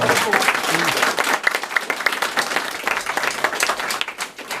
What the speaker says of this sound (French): Voilà, et on peut les applaudir.